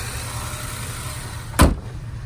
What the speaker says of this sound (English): Here's the EcoBoost. Sounds really healthy.